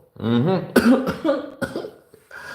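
A person coughs several times in quick succession, close up, with harsh throaty bursts and brief pauses between them.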